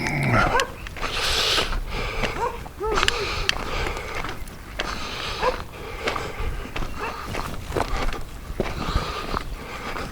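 Several dogs bark and yip repeatedly at close range along a road on an outdoor hike, with some whimpering mixed in and a person talking over them.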